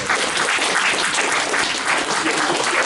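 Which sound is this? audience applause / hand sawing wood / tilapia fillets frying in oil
audience applause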